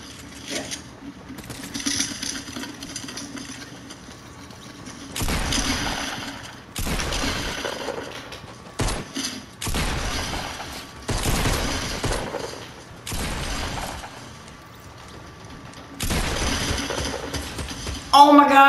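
Rapid bursts of gunfire from the video game Fortnite come in several separate volleys, each lasting a second or two with short gaps between, loud and close, with a voice talking in between.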